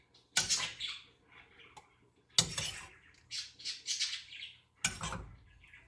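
A spoon scrapes and clinks as homemade ultrasound gel is spooned into a plastic Dawn dish soap bottle, three sharp clatters spaced a couple of seconds apart, with softer squelching and scraping in between, close and fairly quiet.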